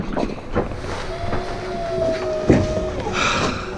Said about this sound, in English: 16 knots of wind roughly.